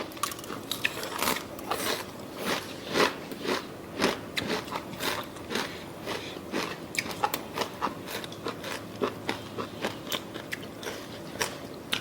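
Loud, close crunchy chewing of jellyfish in chili sauce wrapped in seaweed, with rapid repeated bites, steady and wet-sounding, no talking.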